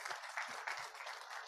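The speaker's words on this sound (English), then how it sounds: "Let's give a big round of applause as well." Audience applause at a tourism summit, a brief, steady patter of clapping at moderate level, with a few low thumps underneath.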